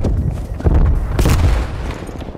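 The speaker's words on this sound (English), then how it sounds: "Sending frag grenade." A frag grenade goes off in the Call of Duty Black Ops Cold War video game, a loud booming blast amid rattling gunfire that rolls on for a couple of seconds with a second burst partway through.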